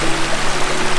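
River water rushes steadily near waterfalls, a loud, dense and unbroken churning flow with no voices over it.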